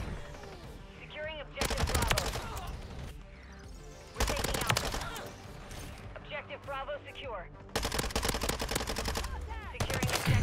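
Modern Warfare 3 gunfire from a Minibak submachine gun comes in three long, loud bursts of rapid automatic fire, separated by quieter stretches of game sounds, with a voice talking underneath.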